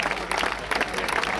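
Crowd applauding at a French championship hill climb, steady dense clapping held throughout at moderate level with no talk over it.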